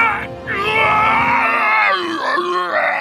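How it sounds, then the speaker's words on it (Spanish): A voice actor dubbing Venom's film screams produces a loud, drawn-out growling roar that bends upward, then breaks into harsher strained cries, close and alone. "el encargado de hacer el doblaje de la voz tuvo que recrear muchos de los gritos que hace el personaje"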